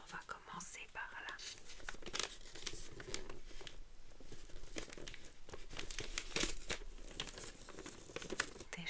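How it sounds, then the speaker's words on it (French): Gift wrapping paper on an autumn surprise box crinkles and rustles continuously up close, with soft tearing and handling noises under a quiet whispered voice. "je trouve qu'elle a choisi un papier qui fait juste un son que j'adore"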